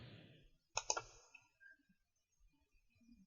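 A quick double mouse click on a computer, sharp and close in a quiet room, followed by faint small ticks and soft background noise.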